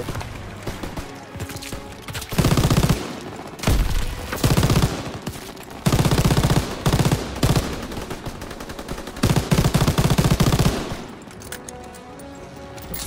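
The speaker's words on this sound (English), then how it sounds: "This MG is a German shredder." Bursts of German machine gun fire in the Call of Duty WW2 video game, several loud rapid volleys separated by short pauses, with game noise between them and no talking.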